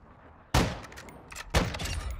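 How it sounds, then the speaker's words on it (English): Two sharp gunshot bursts crack out about a second apart in a team deathmatch shooter game, loud and close, each trailing into a short rattling tail with no voices. "They're shooting at me!"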